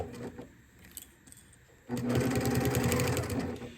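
Domestic sewing machine stitching a fabric bag along a zipper with a zipper foot, quiet handling at first, then a steady close whirring run of stitches.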